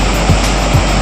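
Dhuandhar waterfall on the Narmada river at Bhedaghat, a loud, steady, dense roar of heavily falling water filling the whole moment with no pauses.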